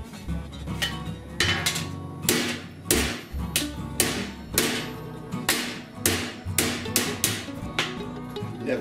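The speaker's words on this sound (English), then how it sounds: "This hammer I'm using has curved faces on it" A curved-face body hammer strikes a 1978 Ford F150 disc brake duct in a steady series of sharp, ringing blows, close by and loud, repeating roughly every half second.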